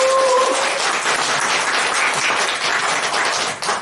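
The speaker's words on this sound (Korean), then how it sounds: "AP의 회사 소개 그리고 비전을 설명해 주신 우리 배민호 전무님께 다시 한번 큰 박수 부탁드립니다" Sustained audience applause at a Korean corporate presentation, dense steady clapping from a large crowd, loud and close, continuing throughout after a short tone at the start.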